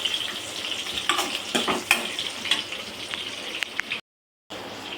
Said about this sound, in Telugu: పచ్చిమిర్చి ధనియాలు వేసి వేపుతూ ఉన్నాను.